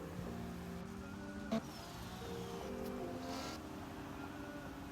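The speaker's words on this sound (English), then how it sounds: "This car loud, I ain't gonna lie." A loud car engine in a video game idles and revs in a steady, low-pitched rumble with small surges, heard faintly throughout.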